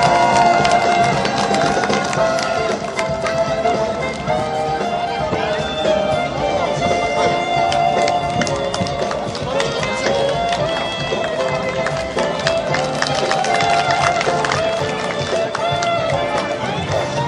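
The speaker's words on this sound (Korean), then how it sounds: "자, 박수 크게 치세요." A crowd at a Kyungshin High School alumni sports day cheers and claps for the winning jokgu team, a dense continuous roar of applause with voices mixed in, steady and loud throughout.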